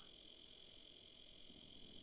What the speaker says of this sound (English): I don't know if that's a cicada in there or something, but he's going crazy.